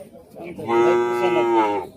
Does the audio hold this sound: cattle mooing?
yes